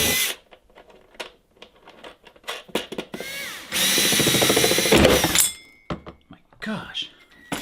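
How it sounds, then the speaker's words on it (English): Power drill boring holes in the metal case of a portable diesel heater being built for an ice-fishing hot tent, with short bursts followed by one sustained whining run, close and loud. "So we're gonna drill a couple more holes where the heater's actually gonna mount."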